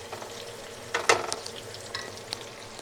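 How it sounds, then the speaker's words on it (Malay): Onion and garlic sautéing in a pan make a gentle steady sizzle, with a few light spatula scrapes and stirring clicks near the middle. "Ini dah aku tumis bawang, 1 biji bawang besar, 4 ulas bawang putih. Bagi dia perang sikit."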